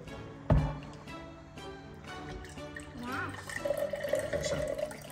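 Liquid is poured into a glass at home, a brief splash followed by trickling and a rising gurgle as it fills, with some faint household sounds around it.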